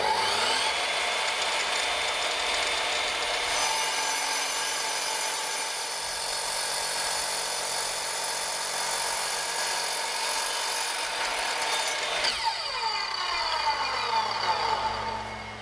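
An Evolution 255 diamond-blade saw makes a straight cut through stone such as marble, slate or granite, giving a loud, steady high whine and grinding rasp that holds for the whole stretch, with a shift in pitch as the cut finishes.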